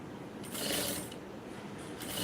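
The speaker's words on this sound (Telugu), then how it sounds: "ఇప్పుడు దీన్ని పెట్టుకొని కుట్టుకోవాలి" A sewing machine stitches the front part of a blouse with piping, whirring in two short bursts of mechanical rattling with a quieter pause between them, heard close up.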